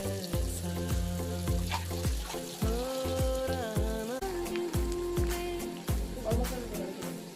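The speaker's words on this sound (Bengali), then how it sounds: "আলুগুলো ভেজে নিলাম।" Potatoes frying in mustard oil in a wok, a close, steady sizzle with repeated rhythmic stirring knocks of a spatula throughout.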